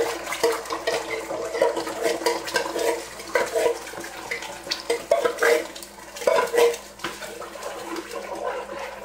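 Tomato paste cooks in preheated oil in a frying pan for Cameroonian DG chicken, with a steady sizzle broken by scraping and clattering against the pan, no voices.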